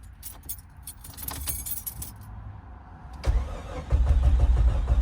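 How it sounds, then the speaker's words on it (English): Keys jangle close by, then a 1994 Jeep XJ Cherokee, newly fitted with fuel injectors, cranks and starts, its engine catching and settling into a loud, rough idle. "And now we can start the car."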